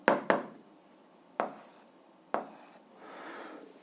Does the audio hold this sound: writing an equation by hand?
yes